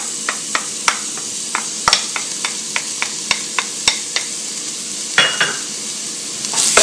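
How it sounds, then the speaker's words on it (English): Onions frying in melted butter in a soup pot, stirred throughout: a soft continuous sizzle broken by regular sharp scrapes and taps of the spoon against the pot, close and clear with no talking. "keep stirring and give the onions a little bit of color"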